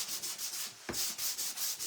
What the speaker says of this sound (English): I'm gonna take my sandpaper and make sure I got it all.